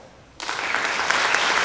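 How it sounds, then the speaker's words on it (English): An audience of family and friends bursts into applause for students at an eighth-grade summer middle school promotion ceremony, starting abruptly after a short quiet moment and continuing as a loud, steady wash of clapping. "turn around to your family and friends so that they can applaud you"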